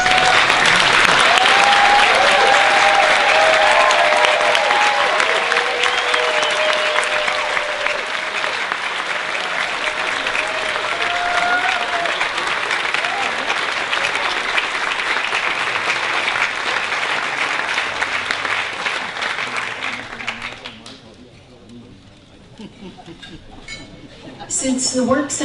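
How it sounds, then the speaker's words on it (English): Loud, sustained applause fills a gala hall as the audience claps steadily for standing fellows, thinning out and fading toward the end before a brief swell returns. "let us all give you a huge round of applause"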